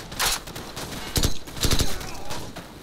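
Gunfire in the Call of Duty: Modern Warfare video game, several short bursts of automatic rifle fire at mid distance during a firefight, with brief voice chatter in between.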